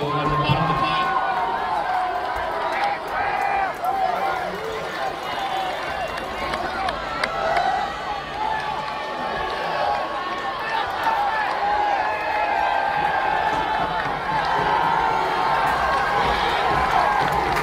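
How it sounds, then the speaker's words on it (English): Mainland Mustangs student section at a high school football game against Long Branch, a steady crowd roar with cheering and shouts building in volume, under continuous play-by-play commentary. "Mainland Mustang crowd, student section, the faithful. Starting to pick up the volume once again."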